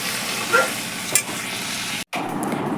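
Potato, pointed gourd and poppy seed frying dry in a pan, a steady close sizzle with a couple of soft stirring scrapes and a brief cut near the end.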